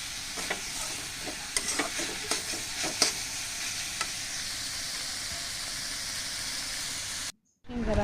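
Food frying in a pan is stirred with a utensil, giving a steady, soft sizzling hiss broken by light scraping clicks. The sound cuts out briefly near the end.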